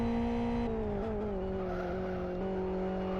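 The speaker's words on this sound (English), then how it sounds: "You heard the engine note rise there as he put the wheels on that inside curb" A race car in the Live for Speed driving game runs through a corner complex. A loud, continuous engine drone shifts pitch as the wheels ride the inside kerb, with a faint tyre hiss beneath and no voices.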